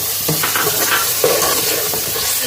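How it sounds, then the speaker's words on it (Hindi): Chopped tomatoes go into browned onions frying in hot oil, giving a steady close sizzle with stirring scrapes and soft bursts of hiss. "ये देखिए हमारे प्याज हल्के हल्के ब्राउन हो गए हैं। अब ये हम टमाटर इसमें डाल देंगे।"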